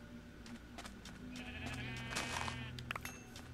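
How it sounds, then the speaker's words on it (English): Sheep in the video game Minecraft bleat several times in quick succession, a few short bursts close by over a quiet backdrop, with no talking. "Oh nice, you found some more sheep."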